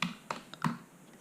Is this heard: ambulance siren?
no